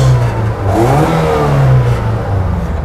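Opel Blazer engine revs hard and close up, rising and falling in strong repeated throttle blips with a steady mid-pitched roar and no talk over it.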